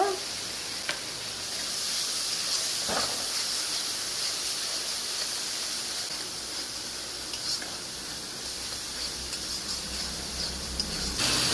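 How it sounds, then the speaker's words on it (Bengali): Spice paste of coriander, chili and turmeric powders with a little water, cooking down in a pan for a fish curry, gives a steady soft hiss and sizzle with a few faint clicks and no voices. "অল্প করে জল দেব দিয়ে মশলাকে সব কষে নেব"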